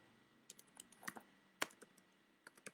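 Quiet close typing on a computer keyboard, a scatter of light irregular key clicks with one sharper tap in the middle, soft and unhurried against a hushed room.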